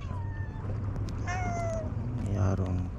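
A cat meows in a few drawn-out, rising and falling calls, close by, over a steady low background hum, with people talking around it while fish is prepared for a quick meal.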